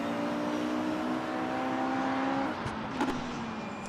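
A race car engine in the Mercedes AMG eRacing video game holds a steady, buzzing tonal drone, then its pitch drops and shifts as the car slows into a turn.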